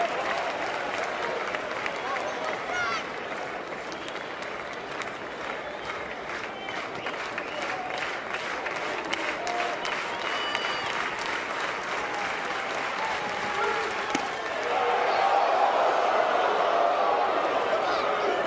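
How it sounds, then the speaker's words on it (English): South Carolina crowd cheering and applauding at a college baseball game against Clemson, a continuous wash of clapping and crowd noise with commentators talking over it, swelling louder near the end. "South Carolina crowd towards our left in midseason form."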